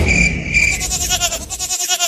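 A cartoon goat bleats in a few wavering, nasal cries, loud and close, trailing into quick pulsing bleats.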